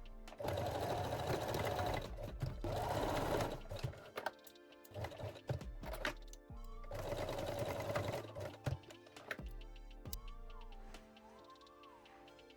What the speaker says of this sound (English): Now lock the seams with the straight stitch.